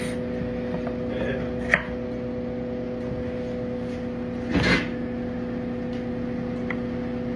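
A knife chops potatoes in a home kitchen, with just a couple of distinct sharp cuts standing out over a steady background hum and an otherwise quiet room.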